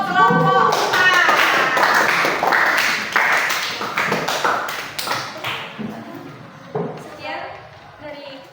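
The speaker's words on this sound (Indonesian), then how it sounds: "kasih aplaus untuk kelompok 4" Applause for a student group after a presentation in an Indonesian classroom or hall, dense clapping that fills the first half and then thins into scattered, fading claps with voices mixed in.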